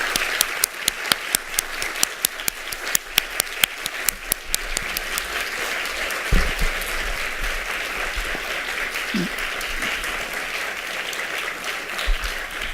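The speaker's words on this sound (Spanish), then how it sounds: "le vamos a dar un fuerte aplauso lleno de nuestro reconocimiento y cariño" Warm, sustained audience applause at the closing of a descriptive linguistics event, many hands clapping steadily, with a few distinct louder claps early on and a low background murmur underneath.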